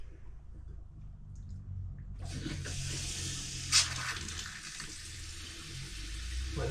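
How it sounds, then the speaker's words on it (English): Water runs from a campervan sink tap opened partway, starting after a quiet moment and then pouring steadily with a hissing splash into the basin, with a brief clunk midway. "I haven't got the tap turned on full volume because I was a bit scared"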